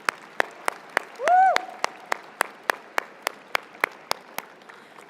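A sparse crowd at a university orientation event applauds the orientation teams: distinct, evenly spaced claps ringing out in a hall, with one loud whooping cheer early on.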